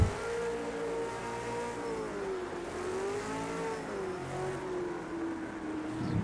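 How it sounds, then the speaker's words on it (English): V8 race cars roar around the Nürburgring Nordschleife in a steady, loud engine drone with rising and falling pitch as the motors rev and pass, heard from a distance without speech. "Roaring V8 cars."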